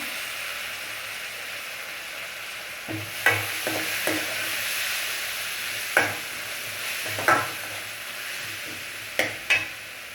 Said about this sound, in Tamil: வெங்காயம் வதங்கினதுக்கப்புறம் இஞ்சி பூண்டு பேஸ்ட்டு ஆட் பண்ணிக்கலாம்